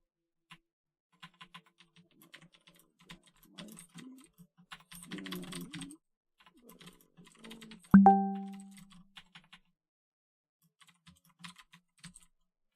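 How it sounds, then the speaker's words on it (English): Typing on a computer keyboard to send a chat message, a steady run of close, light key clicks with a denser burst midway and one brief tonal chime, no talk. "I'm typing a message on Google Chat."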